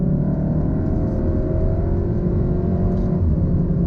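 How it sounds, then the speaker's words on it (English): 2016 Volkswagen Golf R accelerating hard, a loud, steady engine drone and whir rising in pitch from inside the car; no distinct exhaust backfire pop on the upshift stands out. "on the upshift, it has that backfire on the exhaust"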